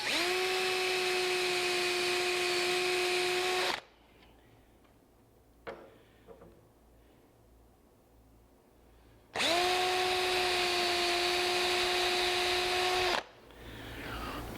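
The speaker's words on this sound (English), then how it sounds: "Just simply drill a hole." A power drill bores a hole into a maple cabinet knob from Horton Brass for a pie safe build: two steady, loud whining bursts of drilling separated by a quiet pause with a couple of small taps.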